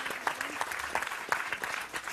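A studio audience on a French cooking show applauds winemakers from Blayais and Tutiac, a short, moderately quiet patter of distinct handclaps.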